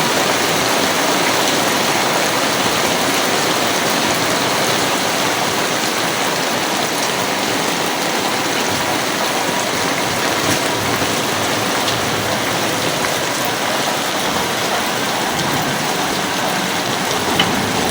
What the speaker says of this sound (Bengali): এই দেখেন কেমনে পানি পড়তেছে